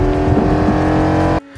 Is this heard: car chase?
yes